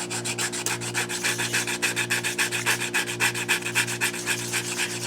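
Sandpaper rubbing back and forth on a wooden pinewood derby car, a steady rhythmic scratching of short even strokes, close and continuous with a low hum underneath.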